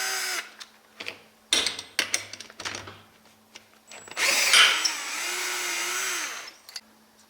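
Short bursts of a power tool working on an old exhaust manifold, several brief loud whirs followed by a longer sustained high-pitched run, with clanks in between.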